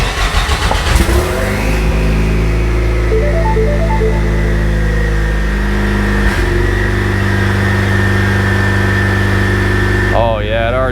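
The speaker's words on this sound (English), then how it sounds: "let's fire it up. This is the part where we find out if I actually hooked my motor up properly" A Ford EcoBoost car engine cranks and fires, then settles into a steady, loud idle close by, with a rising rev near the end and a person speaking briefly over it.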